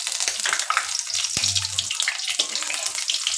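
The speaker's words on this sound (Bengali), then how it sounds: "একটু 2 মিনিট ভাজতে হবে।" Cardamom, cinnamon, cloves and a bay leaf fry in oil with a loud, continuous crackling sizzle close by, marked by one brief low thump partway through.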